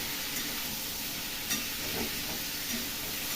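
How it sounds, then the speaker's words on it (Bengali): Mixed vegetables frying together in a little oil for Bengali shukto with turmeric, a steady soft sizzle with a few stirring scrapes, close and continuous without talk. "অল্প তেলে ভালো করে সব একসাথে ভেজে নিলাম।"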